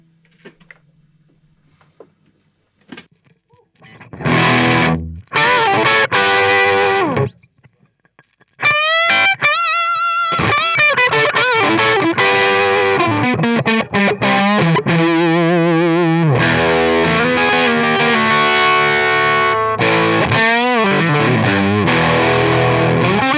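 Electric guitar through a reissue Fender '68 Vibro Champ amp, played loud with distorted breakup: a few opening strums and chord stabs, then a run of bent lead notes giving way to sustained, gritty chords with brief gaps.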